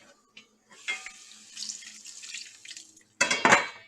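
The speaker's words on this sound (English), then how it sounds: "I'm going to throw a little water in." Water poured into a hot pan of onions and veggie meatballs, a short splash then a loud, broad sizzling hiss bursting up near the end after quieter pan crackle.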